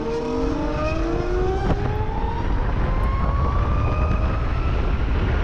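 A Zero S electric motorcycle accelerates hard, its motor whine climbing steadily in pitch over loud road and wind roar.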